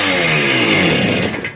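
An old motorcycle engine on a cheap bike with new gaskets and a borrowed coil, throttle stuck open, roars in a loud sustained rev with rising harmonics, then starts to ease off at the very end.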